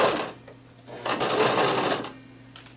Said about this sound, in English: I'm going to keep sewing